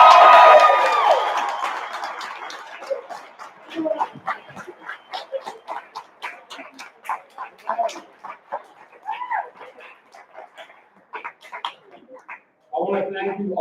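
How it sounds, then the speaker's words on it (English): A crowd at capstone student presentations bursts into loud applause and cheering, which fades into scattered claps and whoops before a voice speaks at the end. "Let's give G90 one more hand."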